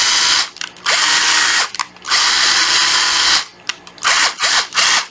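A National cordless battery screwdriver drill, a Japanese tool with 20 clutch settings, a drill setting and two speeds, whirs loudly in several bursts, starting and stopping with short gaps between runs.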